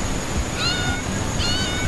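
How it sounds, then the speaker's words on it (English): Two short cat meows, one after the other with a pause between, over a steady background hiss. "they heard the distinct sound of meowing"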